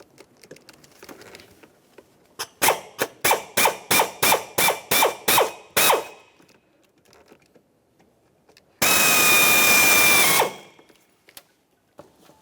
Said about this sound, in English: To drill off the head of these rivets, we'll use a 9/32 drill bit.